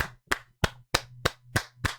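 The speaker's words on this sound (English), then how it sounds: "give a round of applause to the script writers for this event" Seven crisp, evenly spaced hand claps ring out at a slow, steady pace of roughly three every second, with a low hum running underneath; it sounds like one person clapping rather than a crowd.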